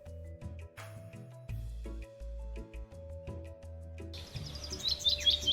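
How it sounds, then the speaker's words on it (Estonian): Birds sing outdoors on a spring day, with bright chirps and trills rising near the end over a soft musical background. "Linnud laulavad."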